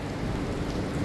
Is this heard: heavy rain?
yes